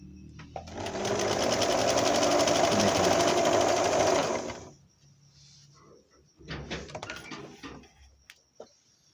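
A Singer 1288 sewing machine stitches fabric with small stitches, running at a loud, fast, steady mechanical whirr for about four seconds, then short bursts of stitching and clicks after a pause.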